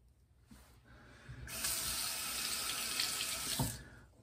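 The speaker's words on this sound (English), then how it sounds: "All right, so you rinse up here real quick." Tap water runs steadily into a sink to rinse a shaving brush, starting after a brief pause and flowing at an even, fairly loud level for about two seconds before stopping with a small knock.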